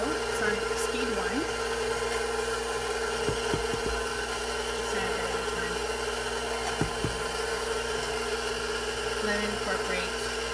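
An electric stand mixer runs steadily on speed 1, churning almond cranberry biscotti dough as flour is added, a constant mechanical whir with occasional clunks and a faint voice under it.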